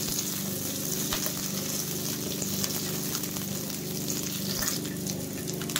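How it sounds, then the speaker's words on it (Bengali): Capsicum pieces stir-frying in a pan over high flame, a steady loud sizzle throughout with occasional scraping and clinking from stirring. "হাই ফ্লেমে এটাকে আমি পুরো নাড়িয়ে ছাড়িয়ে ভেজে নিচ্ছি।"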